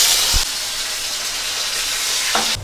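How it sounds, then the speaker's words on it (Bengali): Salted, turmeric-coated potatoes fry in hot oil with a steady loud sizzle and hiss, a couple of brief knocks of utensils at the start and end, no voices. "এবার আমি আলুগুলো ভেজে নেব।"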